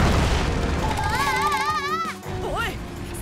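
In the PJ Masks cartoon, the Thunder Dokan power blast goes off as a loud, deep rumbling boom, followed by rising and falling warbling whistle tones that fade as the rumble drops away.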